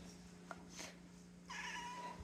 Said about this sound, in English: See, my cat even says it.